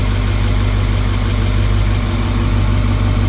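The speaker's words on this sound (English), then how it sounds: "Building a little pressure." A dump truck on a dairy farm idles loudly and close by as it builds pressure, a steady deep diesel rumble with an even low throb and no change in revs.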